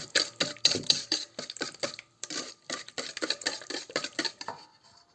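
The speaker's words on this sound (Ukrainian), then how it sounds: "І зараз ми тоді додамо сюди цукор. Ось так добре розмішуємо." A spoon scrapes and clinks around a bowl, stirring sugar into cake batter for an apple poppy-seed pie, in quick irregular bursts of close, fairly loud strokes with brief pauses.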